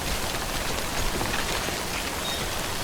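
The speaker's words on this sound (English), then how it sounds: "We don't want to be in this rain too long either way" Steady rain falling in the Death Stranding video game, a dense, even hiss of drops pattering on surfaces, continuous and close throughout without any voices.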